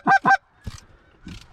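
Geese honk during an A-frame blind hunt in the middle of a field, two loud close honks in quick succession followed by fainter, more distant calls.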